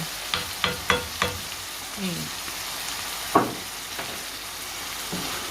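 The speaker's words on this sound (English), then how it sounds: "Just stir all of it together." Mixed spices for chicken curry crackle and sizzle in a pan. A quick run of clicking stirs comes first, followed by softer scrapes and one louder stroke, over a steady frying hiss.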